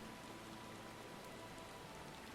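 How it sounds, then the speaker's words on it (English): Steady rain in Final Fantasy XIV: Shadowbringers, a dense, even patter with no break and no voices. "Yeah, it's raining outside."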